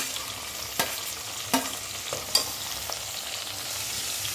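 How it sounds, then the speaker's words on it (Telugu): Green chillies, with onions, frying and being stirred in a pan while making veg pulao: a steady sizzle with a few sharp scraping clicks from the spoon, close and moderately loud, no talking. "పచ్చిమిర్చి కాస్త వేగనిద్దాము."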